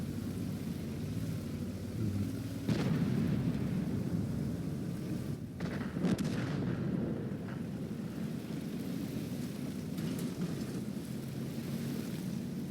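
The tank cannon of an Object 452K in World of Tanks fires in sharp booming shots, one near the start and another a few seconds later, over a constant low rumble of engine and battle ambience.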